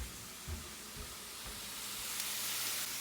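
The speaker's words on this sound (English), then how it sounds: "We got some bacon on the pan." Bacon sizzles in a frying pan as a faint, even hiss and crackle that grows slightly denser toward the end, with a few soft low bumps early on and no talk.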